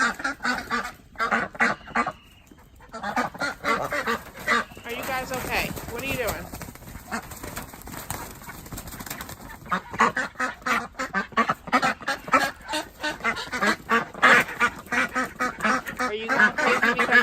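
Ducks quack repeatedly in a busy, overlapping chorus nearby, with a person talking intermittently among them.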